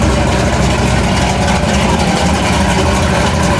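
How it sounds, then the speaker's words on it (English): A turbocharged VW Type 1 engine, bored and stroked to 2110cc, runs loud and close with a constant rough, dense drone and no pauses. "Still a Type 1 VW engine like it's supposed to have, but it's bored and stroked to 2110cc, turbocharged."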